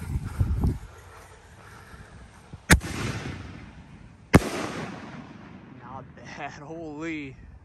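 Two sharp, loud bursts from a Snake Tail 5-inch canister shell by Pro Fireworks, a couple of seconds apart, each trailing off in a crackling fizz, ending with whistling, wavering squeals.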